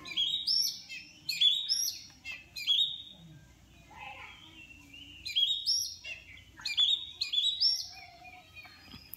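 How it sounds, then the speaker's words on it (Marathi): Small birds chirp and tweet in a quiet forest village, with bright repeated calls arriving in short bursts and brief pauses between them, heard close and clear over a faint, calm background with no talk. "फक्त पक्ष्यांचा आवाज आहे."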